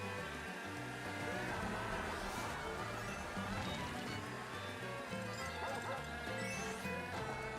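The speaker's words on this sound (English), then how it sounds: "Someone's let the dog off his chain." A dog barks in a kart-style racing video game, its repeated yaps sitting under dense, continuous game music and engine noise at a steady loud level.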